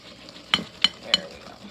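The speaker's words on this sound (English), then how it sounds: "Let me get some of this sugar mixed in a little better." A spoon or whisk clinks against a bowl three times, evenly spaced and fairly faint, while eggs and sugar are mixed together for a no-cook pecan pie filling.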